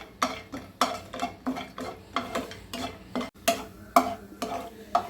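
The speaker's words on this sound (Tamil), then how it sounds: "இதில் பத்து பன்னெண்டு முந்திரி போட்டு நம்ம வறுத்துக்கலாங்க பொன்னரமாக வறுத்துக்கலாம்" A handful of cashews roasting in ghee in a hot pan while being stirred, with a steady string of sharp spoon-against-pan scrapes and taps over a faint sizzle, close and clear, and no talking.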